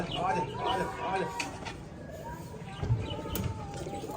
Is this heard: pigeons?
yes